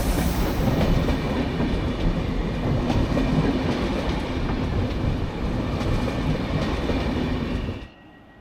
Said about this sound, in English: Here comes our service, hauled by this brand new Polish-built locomotive.